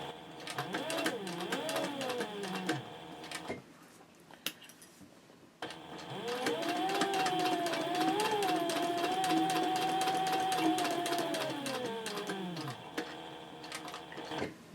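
A sewing machine topstitches around the perimeter of a handbag flap at a long stitch length, running in a fast, steady whir with a rising motor pitch, pausing briefly in the middle before a longer continuous run.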